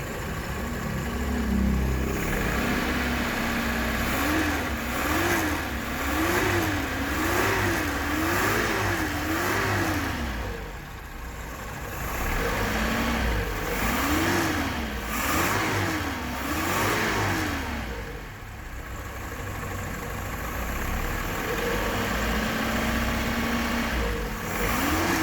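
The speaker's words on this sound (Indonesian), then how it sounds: "Nih, ini suara mesinnya ya sekilas dari video ini." A car engine idles steadily, then is revved repeatedly in rhythmic rising and falling bursts, two separate runs of several revs each, heard close and without speech.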